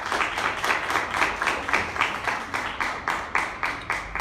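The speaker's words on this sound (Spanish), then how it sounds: "Denle un aplauso al Señor." Congregation clapping in unison to praise, a rhythmic series of sharp, evenly spaced claps from many hands, steady and moderately loud with no talk over it.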